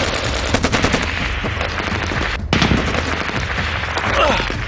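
Rapid bursts of machine gun fire rattle continuously during an ambush in Helmand, Afghanistan, loud and harsh, with a brief pause midway before the firing resumes.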